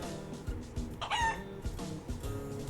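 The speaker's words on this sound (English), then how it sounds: "Oh, so it's chicken. I thought it was a rooster." A chicken in the Yakuza Like a Dragon video game gives a few soft clucks and a short rising call, faint and close, against a low game background hum.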